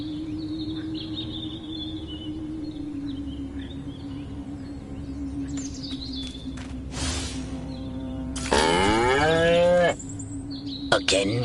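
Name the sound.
cattle mooing in Destroy All Humans video game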